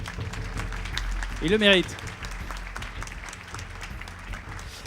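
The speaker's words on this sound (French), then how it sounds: "On les applaudit très fort tous les 5." Audience at a French real-estate awards ceremony applauds steadily for the five honorees, a continuous patter of clapping with a short spoken remark cutting in partway through.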